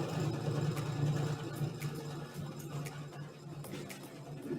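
Home sewing machine stitching in reverse over elastic on a cloth placemat cutlery wrap, a steady low mechanical whir running throughout at moderate, close range.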